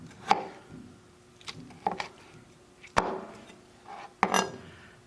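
Broccoli and tomatoes chopped on a cutting board for a casserole, several sharp knife strikes spaced irregularly, close and crisp against a quiet background.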